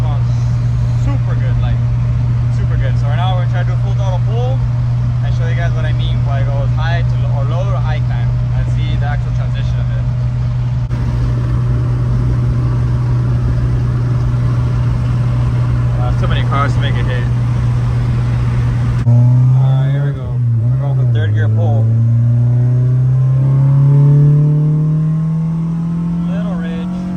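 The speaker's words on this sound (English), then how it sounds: "we're gonna try to do a full throttle pull" A street-tuned Honda Integra LSV, revving to 9,000 rpm, idles steadily and loudly, then its engine note climbs as the throttle opens, while someone talks over it.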